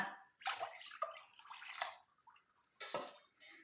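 Water poured into rice and urad dal flour batter for homemade idli, soft splashing and sloshing bursts with brief pauses, close and fairly quiet.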